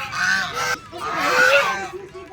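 Several loud, close honking quacks come in quick bursts from ducks at a pond in the grounds of Chandrodaya temple in Vrindavan, with no talk between the calls.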